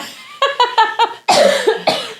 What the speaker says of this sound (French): Il faut tellement que je tousse